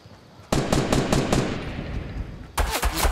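Fortnite gunfire comes as a loud burst of rapid shots, a pause, then another quick burst, close and sharp with no talking over it.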